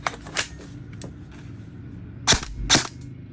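An E&C 341 airsoft AEG rifle is test-fired in several sharp, snappy single shots, spaced irregularly, close and crisp against a low background hum.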